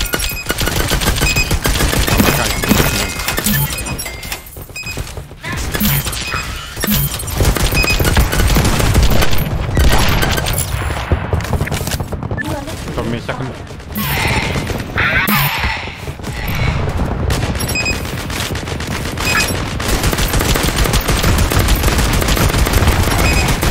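A deployed turret in the game LEAP firing continuously, loud and dense, with rapid automatic bursts that barely pause over more than twenty seconds, mixed with other battle noise.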